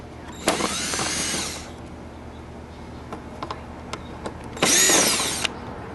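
Power drill backing out the headlight screws on a Chinese scooter, two separate close, loud whirring bursts of about a second each with quiet ticking in the gap between them.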